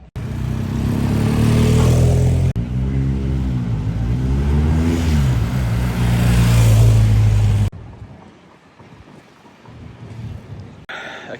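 A single car drives past on a London street near a police cordon. Its engine roars loudly up close, with pitch shifting as it passes, over wind buffeting. The sound then cuts abruptly to a quieter street.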